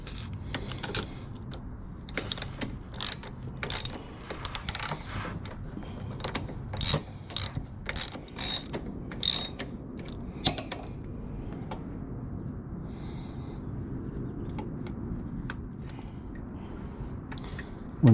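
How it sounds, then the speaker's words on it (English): A ratchet wrench clicks in quick bursts while removing a bolt from the center stand of a 1994 Honda CBR 1000F motorcycle, close and crisp, followed by a quieter stretch of low background noise. "Now I'm going to remove the second bolt."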